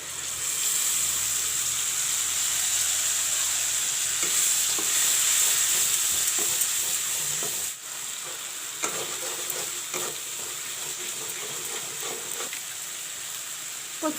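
Ginger garlic paste sizzling in hot oil while being stirred, a bright continuous hiss with scraping stir strokes that softens partway through and continues with occasional clinks.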